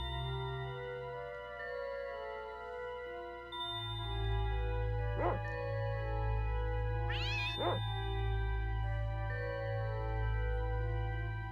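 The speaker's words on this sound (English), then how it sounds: "It's a large cat." A large cat meows twice over a steady low hum and soft background music, the calls short, clear and fairly close, with no talking.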